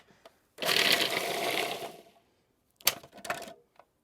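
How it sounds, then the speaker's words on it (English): A kitchen blender whizzes basil and black pepper for a stuffing in one loud burst of about a second and a half, then a few short pulses and clatters follow. "I'm just going to whiz these together"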